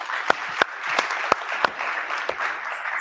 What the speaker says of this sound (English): May we please give a round of applause for Timothy?